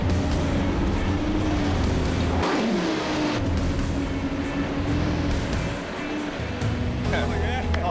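A Mitsubishi Triton 4WD labouring off-road, its engine droning loudly with shifting revs as the wheels spin for grip, while people talk over the noise.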